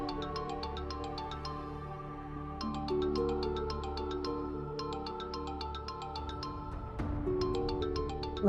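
Phone ringtone plays in a TV drama scene, a loud, repeating melodic tune with steady rhythmic pulses that continues throughout and restarts after brief pauses, with no talking over it.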